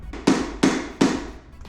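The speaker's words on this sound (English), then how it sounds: "let's hammer this one in." Hammer blows driving a part into a large reptile enclosure during assembly, three sharp, loud, evenly spaced knocks that ring out briefly after each strike.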